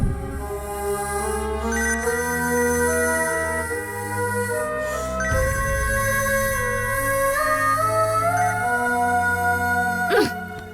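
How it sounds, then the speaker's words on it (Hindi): A phone ringtone plays continuously, a bright melodic tune repeating its pattern loud and close, with no talking. "ये फोन क्यों नहीं उठा रही है?"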